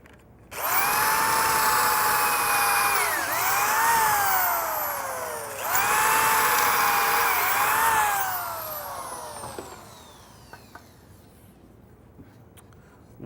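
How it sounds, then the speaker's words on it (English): A power drill drilling pocket screw holes in a wooden cabinet face frame stretcher whines at high speed in two long bursts, pitch sagging briefly under load between them, then winding down to quiet. "I'm just going to show drilling a few of these holes here from one of my stretchers"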